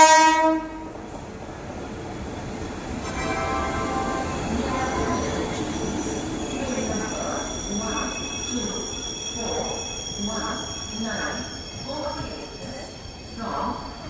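The Sikkim Mahananda Express sounds a long multi-tone horn and rumbles past on the tracks, followed by rhythmic wheel clatter and squeals, loud and near, with a voice talking over it.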